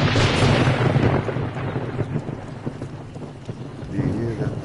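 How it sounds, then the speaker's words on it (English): Thunder rolls through a rainy storm in the survival video game 7 Days to Die, a loud rumble that gradually fades under steady rain with brief talk. "Do you hear the thunder?"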